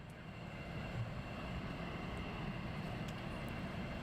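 Military jet aircraft at RAF Lakenheath produce a continuous, broad roar at a distance, steady and unbroken, with no talk over it.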